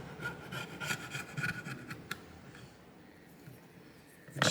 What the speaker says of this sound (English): I'm just finding my flathead screwdriver just to work around the edges.